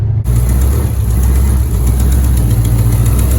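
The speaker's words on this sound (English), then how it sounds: "Yes, I do have an exhaust leak" A cammed Dodge Charger with a 5.7 engine, fitted with a 6.1 intake and manifold, idles with an exhaust leak: a steady, loud, lumpy rumble that runs throughout, close up, with no talking.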